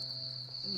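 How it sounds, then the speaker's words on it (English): Crickets chirp in a steady, high, continuous trill, close and moderately loud, with a faint low hum underneath. "The crickets."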